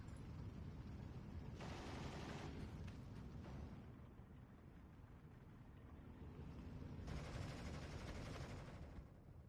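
A large gun fires in the World War II strategy game Steel Division 2, with heavy booming blasts and sustained rumbling bursts, distant and dense, and no speech.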